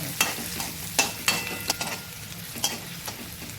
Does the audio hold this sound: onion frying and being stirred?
yes